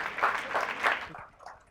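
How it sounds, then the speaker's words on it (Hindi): An audience claps in a short burst of applause at a live talk event, swelling twice before quickly fading out. "एक बार जोरदार तालियां अपने लिए भी बजा दीजिए।"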